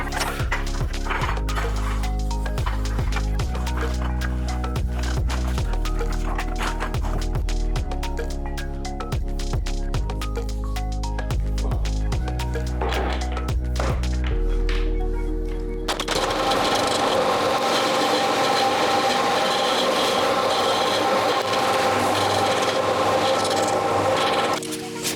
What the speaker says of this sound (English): Staining the floor might seem a little unnecessary